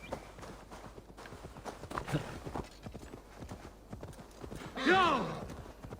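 A horse's hooves clip-clop in Assassin's Creed Valhalla, a steady walking rhythm of soft, distinct hoof falls that continues throughout, with a brief neigh near the end and someone talking quietly over it.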